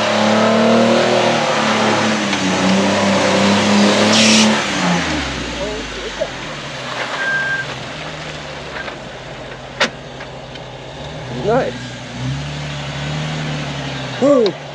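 A Jeep engine revs while the vehicle is stuck in slick mud, loud and close at the start with strong revving, then settles to a lower idle with short bursts of throttle and some mechanical clunks.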